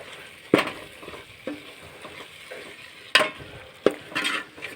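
A spoon stirs chili powder into a sizzling mixture in a pan, with a few sharp scraping knocks against the metal over a soft steady frying hiss.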